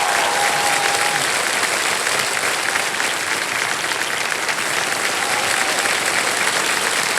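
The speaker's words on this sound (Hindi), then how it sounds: "तालियां बजती रहे कुमारी पूजा जी के लिए" A studio audience on the KBC quiz show applauds for contestant Kumari Pooja, a loud, sustained wash of clapping that holds evenly from start to finish with no talk over it.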